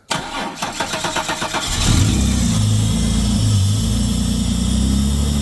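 A car engine, just refuelled with fresh fuel poured down the filler neck, cranks with rapid rhythmic chugging for about two seconds, then catches and runs loud and steady close by, revving slightly as it settles.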